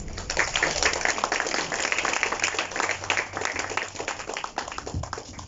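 An audience applauding at an evening event: sustained, dense clapping up close, steady for several seconds before thinning slightly toward the end.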